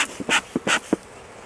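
Honeybees from a swarm buzz near a swarm trap in an apiary, several short close passes rising and fading in quick succession, loud and alone with no talking.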